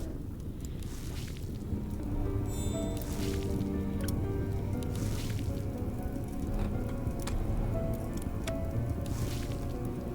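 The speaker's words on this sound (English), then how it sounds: "I think I hear the bubbling sound." Spring water bubbles and burbles in a dark forest scene of a video game, a continuous wet gurgling with drips and squishy pops over a low ambient bed, steady and fairly close with no talk.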